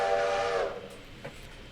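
A railroad video game's train whistle gives a single short tonal blast that cuts off sharply after under a second, leaving quiet background with a faint click.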